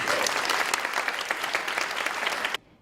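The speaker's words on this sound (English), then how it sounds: "please, everyone give yourselves a round of applause, please" A crowd at the LA WebFest 2022 award ceremony bursts into dense, loud applause that holds steady for over two seconds before cutting off abruptly.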